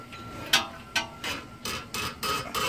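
Sharp ratcheting clicks come in about seven evenly spaced bursts as a 21 mm socket on a breaker bar is worked to loosen an outer tie rod nut, close and fairly loud with no talking.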